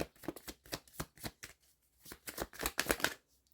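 Playing cards riffled and shuffled for a tarot-style reading, a quick run of crisp, rapid bursts of flicking cards close by, with brief pauses between bursts and no talk.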